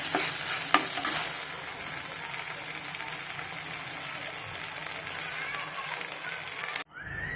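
Ginger garlic paste sizzles and fries steadily in a pan, with a spoon stirring through it at close range, before cutting off abruptly near the end.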